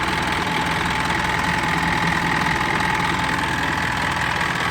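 A rebuilt Isuzu NPR 400 truck engine idling, a steady close rumble with a fast, even knocking rhythm and some vibration, running alone without talk.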